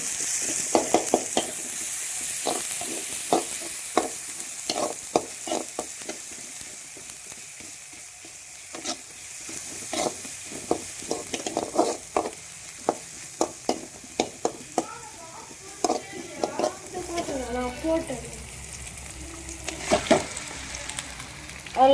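Onion, tomato and ginger garlic paste frying in a pan, with a continuous sizzle under repeated sharp scraping stirs that come in irregular bursts and a stronger bubbling hiss toward the end.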